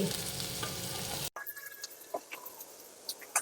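Ginger garlic paste is stirred into frying onions for a prawn curry with tender tamarind leaves: a loud, dense sizzle cuts off abruptly, then quieter crackling and a few spoon scrapes follow.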